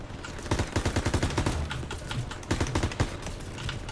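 Rapid bursts of gunfire in the shooter game Call of Duty: WW2, sharp repeated shots in quick rhythmic clusters separated by short gaps, fairly loud over a busy game backdrop.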